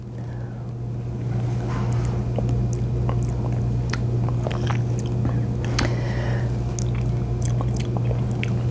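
Wet chewing and squishing while tasting strawberry jam, with irregular close bites and smacks over a steady low hum, no talking.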